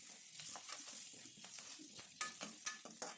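A soft, steady sizzle of frying in a pan during coriander chutney preparation, with intermittent spatula scrapes and stirring clicks spread across the clip, fairly quiet and close, no speech.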